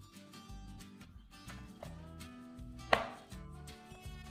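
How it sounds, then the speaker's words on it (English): A knife roughly chopping cheese and ham on a board, giving repeated soft knocks in an uneven rhythm with one sharper clack near the end, fairly close and moderately quiet. "roughly chop all the cheese, all of it, well, the ham and so on"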